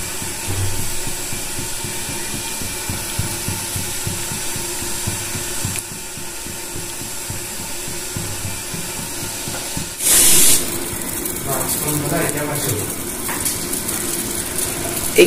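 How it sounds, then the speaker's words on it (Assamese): Water coming to a boil with green peas in a pot on a gas stove, giving a steady close bubbling hiss that turns louder and rougher partway through, with no talking. "পানীখিনি প্ৰায় উতলিবলৈ ধৰিছে মটৰখিনিৰ লগত"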